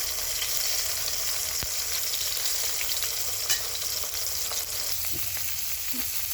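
Fish tail frying in a pan with onion and coriander leaves, a steady close sizzle with faint stirring scrapes, no talk.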